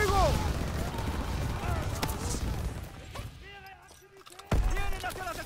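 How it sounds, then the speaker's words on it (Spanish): Bursts of gunfire and heavy cannon booms in a Call of Duty WWII battle, mixed with voices shouting in Spanish, loud and chaotic, with one strong boom near the end. "¡Ese cañón sigue disparando!"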